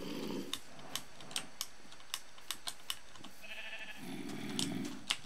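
Sheep bleating in the video game Minecraft, a few short low bleats near the start and again toward the end, mixed with quick sharp clicks like keyboard typing, with no talking.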